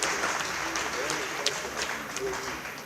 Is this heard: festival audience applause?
yes